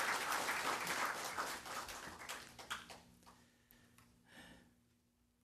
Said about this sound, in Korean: 우리 한번 박수 한번 치시면 좋겠어요